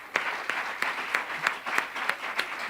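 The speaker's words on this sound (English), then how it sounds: "Let's give them another round of applause." An audience at a schools debate final applauds the debaters, fairly soft clapping with a regular rhythmic pulse, as if clapping in unison, moderately distant.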